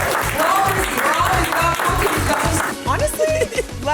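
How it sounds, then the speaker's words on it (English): A podcast audience claps loudly and steadily, dense rapid applause filling the room, with some voices mixed in near the end. "give yourselves a round of applause for some more"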